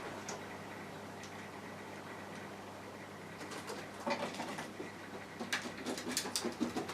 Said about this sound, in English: Can you hear them bloody pigeons on the roof?